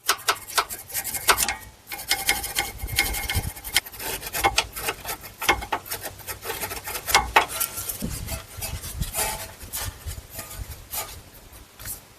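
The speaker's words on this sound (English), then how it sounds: "first we'll use a wire brush and we'll remove any debris off of that bolt" Wire brush scrubbing debris off a sway bar link bolt on a Buick Enclave, Chevy Traverse or GMC Acadia, heard as steady close-up raspy bristle strokes with a continuous rubbing rhythm and no talking.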